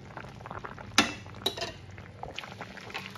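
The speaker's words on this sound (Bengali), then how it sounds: "দেখেন আমাদের তরকারিতে বয়েল আসা শুরু হয়ে গেছে।" Fish curry with drumsticks in a pot coming to a boil, with a low continuous bubbling under a few sharp metallic clinks of a utensil against the pan, close and fairly quiet.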